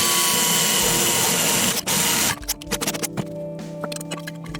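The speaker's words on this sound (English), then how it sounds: "So now I'm switching to my step bit drill." A step bit drill bores holes in a DIY Tubescreamer pedal enclosure, giving a loud steady whine for about two seconds, then a brief pause and a second burst before winding down into scattered scraping and clicks.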